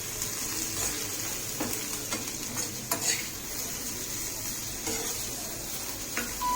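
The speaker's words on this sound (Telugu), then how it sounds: "డీప్ ఫ్రై చేసుకుందామండి." Chopped onions deep frying in hot oil in a pan for chicken haleem, a steady close crackling sizzle with scattered stirring and scraping knocks, no voices.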